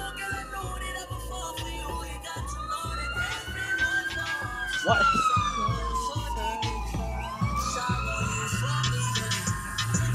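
A wailing police car siren sweeps up and down over steady road rumble from inside a moving car, with one brief spoken word.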